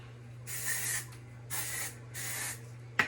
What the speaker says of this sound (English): I like to use a texturizing spray. Just spray it.